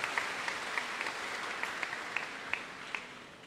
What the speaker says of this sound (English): A hand of applause to Archbishop Gilbert Garcia.